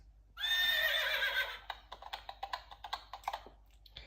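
A horse whinnies loudly for about a second, followed by a run of quick, sharp clicking taps like rapid typing or hooves, in a Thomas the Tank Engine cartoon.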